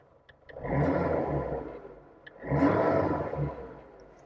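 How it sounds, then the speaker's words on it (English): A Triumph Dolomite Sprint engine, warmed up, revs twice, each rise swelling into a loud roar before dropping back to a low idle. "The engine is warm, so I'll give it a little rev for you."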